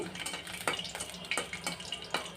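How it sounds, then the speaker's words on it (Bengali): Dried red chillies stirred and fried in oil in a pan, a soft steady sizzle broken by repeated scraping strokes of a spatula at an even rhythm, close and alone. "মরিচটাকে নেড়ে চেড়ে ভেজে নিচ্ছি"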